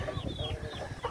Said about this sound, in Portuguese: Tem galinha, subiu até aqui em cima.